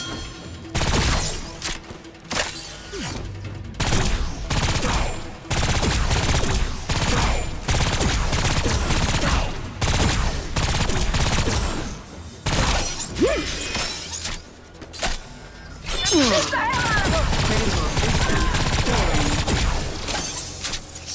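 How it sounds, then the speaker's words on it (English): Rapid bursts of gunfire in the video game Agents of Mayhem, loud dense volleys repeating with short gaps, mixed with shattering and crashing impacts, and no voices. "Can't dodge all my shots."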